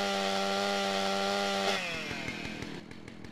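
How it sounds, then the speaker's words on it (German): A chainsaw in the video game GTA San Andreas revs with a steady high whine, then drops into a rougher, pulsing idle chatter; fairly quiet and heard alone. "Eine Kettensäge."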